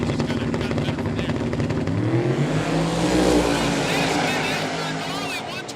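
A turbocharged Corvette drag car with an iron truck block roars down the strip, its loud engine note climbing steadily in pitch as it accelerates, with a crowd and announcer talking over the noise.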